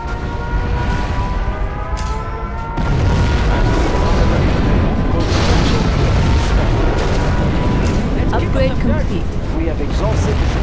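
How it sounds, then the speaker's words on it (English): Scud Storm missiles from Command & Conquer Generals Zero Hour detonate in a sustained, heavy rumble of booming explosions that swells after the opening seconds and stays loud and dense throughout, with game voices and effects mixed in. "Our Scud Storm has been launched."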